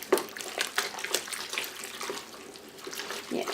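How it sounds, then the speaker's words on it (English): Hot tap water runs from a faucet, splashing with uneven bursts and gurgles at close range, used for softening toilet paper into clay, with no talking. "I use just hot water from the faucet for this one here"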